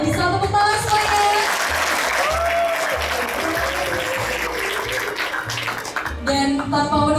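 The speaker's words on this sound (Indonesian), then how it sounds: "Oke, bisa tepuk tangan semuanya." Audience applause rings out at an Indonesian theater event by Teater Al-Ma'ruf, steady and full throughout. Music and voices run beneath it, and the clapping rises again near the end.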